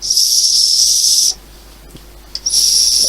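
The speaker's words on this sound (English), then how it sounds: "The emergency whistle is quite bonk" A shrill emergency whistle built into the handle of a military folding shovel blows two long, loud, steady blasts close by, split by a short gap of near silence.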